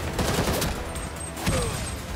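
Rapid bursts of gunfire from Gotham Knights ring out across the whole stretch, dense and loud, a steady rattle of shots with a sharper burst near the end.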